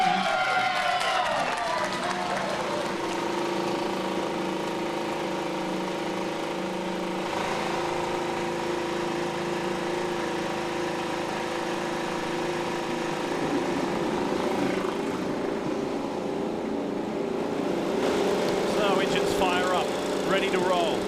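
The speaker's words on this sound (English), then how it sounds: "start your engines" IndyCar race cars at Barber Motorsports Park fire up and idle together, a sustained layered engine drone with revving tones rising near the end over crowd noise.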